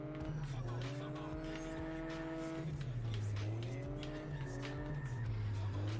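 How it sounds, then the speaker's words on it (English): Car drifting with sustained, wavering tire squeal over a steady engine drone, loud and close throughout, the pitch sliding up and down as the slide is held. "It is the most controlled drift I've had of any vehicle."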